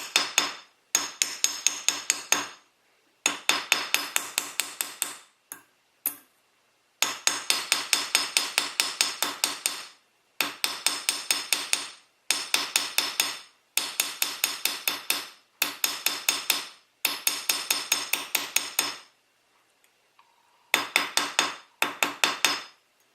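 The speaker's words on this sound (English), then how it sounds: "You can scratch up a really nice hammer by hitting the steel to steel." Rapid bursts of a steel hammer striking steel in jewelry making, close and loud, in steady rhythmic runs separated by short pauses.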